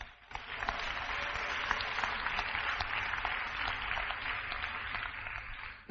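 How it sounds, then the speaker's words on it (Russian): A congregation applauds, a dense, even wash of many hands clapping that holds steady at a moderate distance for several seconds before breaking off abruptly. "Дай аплодисменты Иисусу."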